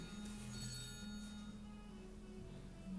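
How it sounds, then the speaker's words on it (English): A telephone rings faintly in a clothing showroom, steady electronic tones repeating under a constant background hum, with nobody speaking. "phone is ringing."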